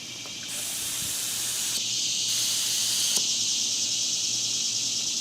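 Steady, loud hiss of an HVLP spray gun spraying lacquer continuously, with a broad airy rush that cuts out and resumes briefly a couple of times.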